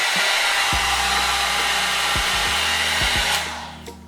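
An Aima Beauty One Step hair dryer runs on its high setting, giving a steady, loud broadband whoosh with a low motor hum underneath. The airflow cuts off near the end.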